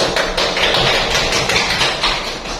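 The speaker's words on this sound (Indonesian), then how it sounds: "Kita beri aplaus." Applause from students in a high school biology classroom after a group presentation, a dense burst of many hands clapping steadily for a couple of seconds, loud and close, with no talking.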